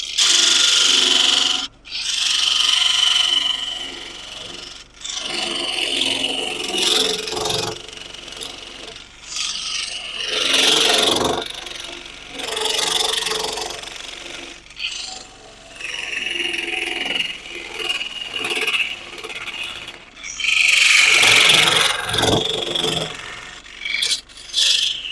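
A hand saw cuts through wood in a woodturning shop, the blade fishtailed from side to side to keep the kerf open. Long rasping strokes rise and fall in an uneven back-and-forth rhythm, broken by short pauses.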